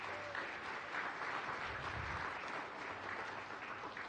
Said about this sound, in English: So round of applause for the Secretary and his team for that.